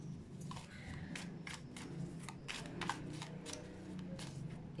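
Tarot cards are handled and shuffled, producing a series of quick, close papery flicks and snaps over a soft background, quiet and without speech.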